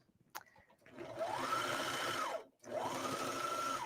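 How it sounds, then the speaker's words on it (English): A serger sewing machine stitches fabric in two fast, close bursts, its rapid whirring hum rising and falling with a short pause between runs. "Running this through the serger"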